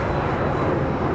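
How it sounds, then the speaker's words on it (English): An Embraer Phenom 300 business jet takes off at Dallas Love Field, giving a steady, loud broadband engine roar with no talk. "It's an Embraer Phenom 300"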